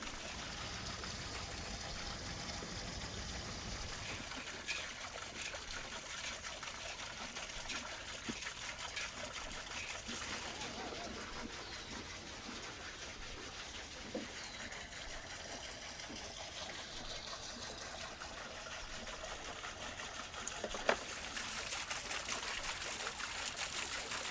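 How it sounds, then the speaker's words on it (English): Steady running well water pours and trickles continuously, with faint splashes as quails are rinsed under it. "As I wash these quails under fresh well water"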